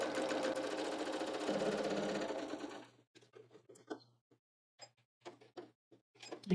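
A sewing machine stitches a pocket in a close, steady whirring run for about three seconds, then stops, leaving quiet clicks and handling noises.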